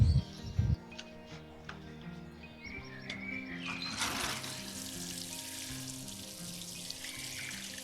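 Freshly planted hardwood rose cuttings outdoors get a good watering: after a few soft knocks, a steady broadband splash and pour of water starts midway and runs on evenly, close by, with no talk.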